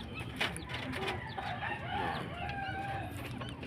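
A young bantam stag crows and clucks close by, its calls repeated over a steady, noisy farmyard background with no talking.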